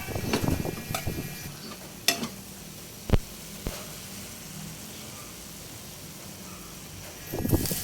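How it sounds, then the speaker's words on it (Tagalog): Sirloin beef frying in a pan for a garlic pepper and mushroom dish, a soft continuous sizzle with a few sharp utensil clicks and taps, no talking. "Parito po muna natin yung baka. Sirloin po ito."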